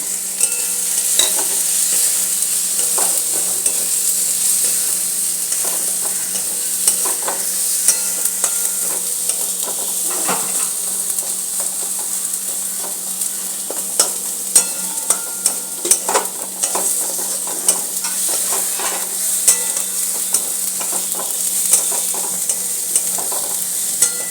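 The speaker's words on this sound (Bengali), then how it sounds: "বন্ধুরা মশলাগুলো আমি এতে সব ঢেলে দিলাম" Spices frying in oil for an egg tarka sizzle loudly and continuously, close by, with frequent scraping clicks from a spoon stirring the pan.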